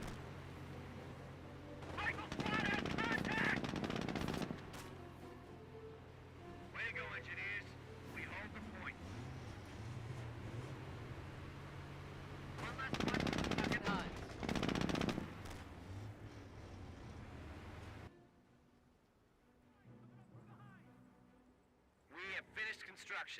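An MG42 machine gun in the Company of Heroes strategy game fires long rattling bursts in two loud stretches. Quieter battle noise fills the gaps, and a softer burst comes at the very end.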